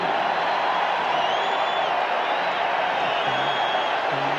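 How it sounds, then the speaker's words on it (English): Foreign basketball arena crowd at a Bulls vs Lakers game roaring steadily after a three-point shot by Van Exel, a dense continuous wash of cheering and whoops throughout. "this foreign crowd is rocking"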